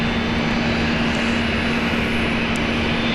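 Roulettes aerobatic team aircraft fly over near Brisbane Airport on Australia Day, heard as a constant, dense engine drone with a steady low hum, loud and unbroken for a few seconds, with no talk.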